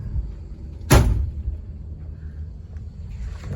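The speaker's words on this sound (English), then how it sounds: "Screen door action here on the back" The screen doors on the back of a Ranger swing shut with one sharp rattling bang, followed by low background rumble.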